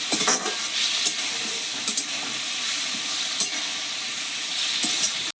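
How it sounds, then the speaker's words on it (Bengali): Spiced potatoes fry in a pan with a splash of water, giving a steady loud sizzle with occasional scraping stir strokes, and no voices. "ভালো করে আলুর সঙ্গে মশলা কষিয়ে নেব"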